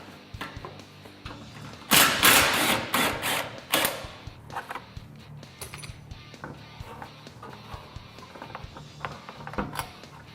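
Tools removing 10mm bolts from the rear cover of a Honda Talon side-by-side, a quick rattling ratchet-like burst followed by faint clinks and handling noises, close and moderately loud.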